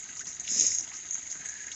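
Water rushing and splashing steadily into a livestock trough, a broad hissing flow that swells briefly in the middle, close by with no voices.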